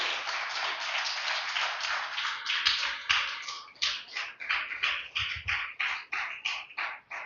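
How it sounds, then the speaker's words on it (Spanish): A church congregation claps in a steady rhythm, a dense run of sharp hand claps that starts as a thick wash and turns into distinct evenly spaced beats toward the end. "Denle un fuerte aplauso al Señor"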